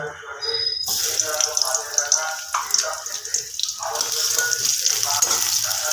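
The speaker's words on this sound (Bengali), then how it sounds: "তেল আর ঘিটা গরম হয়ে গেছে আমি এখানে দিয়ে দেবো একটুখানি পেঁয়াজ কুচি" Chopped onion hitting hot oil and ghee, a bright sizzle that erupts suddenly after a brief quieter start and then keeps hissing steadily, with a voice talking over it.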